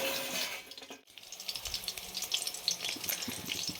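Spice-stuffed bitter gourds fry in a covered wok over a low gas flame. A soft muffled hiss gives way to a brief hush, then a brighter, crackling sizzle with scattered pops once the lid comes off.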